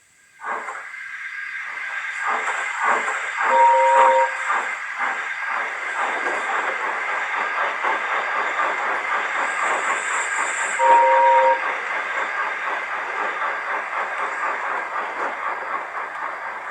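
A steam locomotive chuffs rhythmically and hisses, blowing two short whistle blasts several seconds apart as it moves along.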